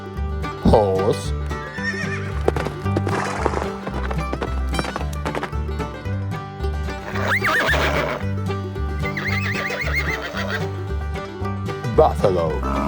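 Horse neighing and whinnying in several loud, quavering calls, with bits of clip-clop and other farm noises around them, with voices mixed in.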